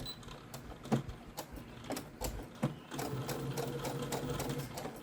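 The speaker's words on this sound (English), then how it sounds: "I go a little less than a quarter when I do the top stitch around the little handles." A sewing machine top-stitches around the small handles of a fat-quarter fabric travel bag, first in short stop-start bursts, then running steadily in a close, even whir.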